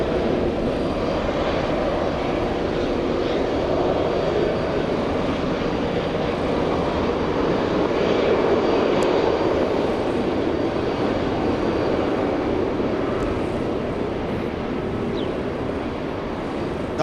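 A Qantas airliner arriving from Brisbane takes off at Los Angeles International Airport, giving a continuous, fairly loud engine roar with low rumble that stays steady throughout, heard alone.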